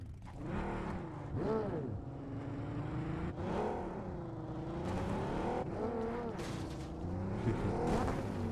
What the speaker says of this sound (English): I love the sound of these sports cars.